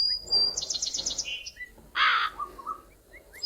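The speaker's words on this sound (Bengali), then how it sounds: "কাক আমাদের তাড়া করতেছে, কাক আমাদের ধরার চেষ্টা করছে" A crow calls in the video game Meena 2 as it chases the player, with a short run of bright chirps and then a harsh, loud caw. The calls sound close and come in brief bursts over a quiet background.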